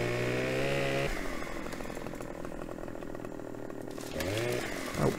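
A chainsaw cuts palm trees in Farming Simulator 17 Platinum, a loud, steady engine whine that drops in pitch as the blade bites into the wood, then revs back up at the end.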